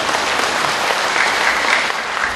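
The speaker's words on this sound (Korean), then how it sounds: "큰 박수로 시작합니다." An audience gives loud, sustained applause at a speech about filial piety. The dense, even clapping continues at a steady level for the whole span, with no talk over it.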